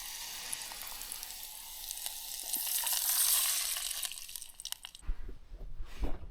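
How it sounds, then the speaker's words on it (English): Beef stock hits a hot camping pan of mince at a wild campsite and sets off a loud, steady sizzle. The hiss swells, then drops away to softer bubbling and stirring clinks. "A little bit of stock, beef stock, not too much."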